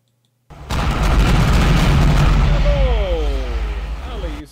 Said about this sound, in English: And a cannon blast it was.